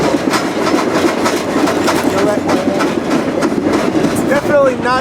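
Steady rumble and clatter from inside a moving freight train car, with continuous rolling noise and faint metallic squeals toward the end, loud and close throughout, no talk.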